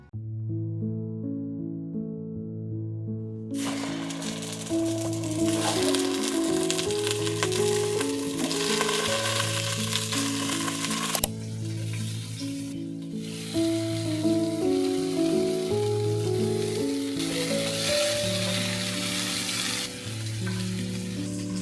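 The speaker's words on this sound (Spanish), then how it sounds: "A esperar a que caliente bien la cacerola de barro, le echamos su aceitito y luego el pollo." Chicken pieces fry in hot oil inside a heated clay casserole, a steady loud sizzle after a quiet opening second or three, with bright crackling and popping running continuously under a background tonal hum and no talking.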